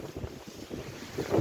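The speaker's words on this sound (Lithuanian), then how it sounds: "O vėjas, o papa, vėjas mane stumia." Gusty wind buffets the microphone in a village, a low rumbling roar that swells and surges, growing loudest toward the end.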